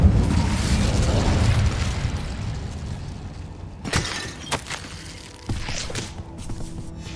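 Incendio fire spell cast in Hogwarts Legacy, a rumbling blast that dies away, then several sharp crackling bursts of flame a few seconds apart, loud and close, with no voices.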